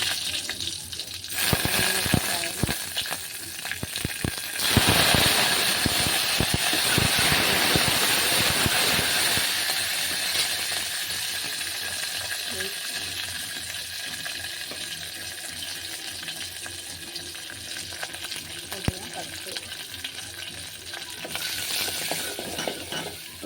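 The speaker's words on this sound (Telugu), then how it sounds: "గిన్నె పెట్టుకొని వెల్లిపాయలు, కొద్దిగా జీలకర్ర వేసి కొద్దిగా బ్రౌన్ కలర్ అయ్యే వరకు ఫ్రై చేయాలి" Garlic and cumin frying in a pot for gongura sesame chutney, a loud, close sizzle with stirring scrapes, strongest early then settling to a steady hiss.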